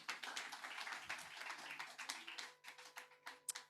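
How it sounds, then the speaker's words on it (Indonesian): Church congregation at a house worship service clapping hands for Jesus, a quick burst of many claps that thins into scattered separate claps near the end, fairly faint. "tepuk tangan bagi Yesus."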